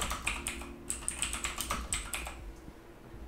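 Fast typing on a computer keyboard while a social media post is designed in Photoshop, with a quick run of crisp key clicks over low background hum and no talking.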